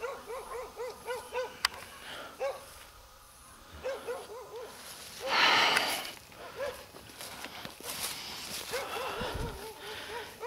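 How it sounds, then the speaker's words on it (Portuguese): A dog barks repeatedly in short rhythmic bursts, moderately close, with pauses and some rustling and a brief burst of noise in between. "Esse latido de cachorro aí, pessoal, é da casa lá"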